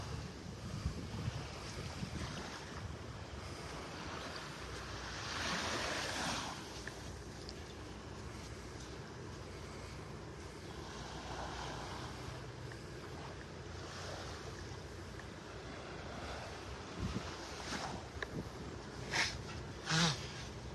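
Surf washes steadily onto a beach in North Naples, Florida, with wind buffeting the microphone throughout; broad rolling wave noise swells and recedes, a louder surge near the middle, with no talking.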